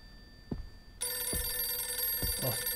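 Telephone ringing in the horror video game Visage, a steady electronic trill that starts partway through and keeps sounding at moderate level, with a few soft thumps before and during it.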